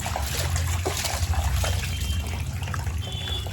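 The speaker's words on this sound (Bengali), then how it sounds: "চলো মাছটা ধুয়ে পরিষ্কার করে নিচ্ছি" Rohu fish being rinsed under running water in a home kitchen, a steady trickle and splash of water that runs throughout with no one speaking.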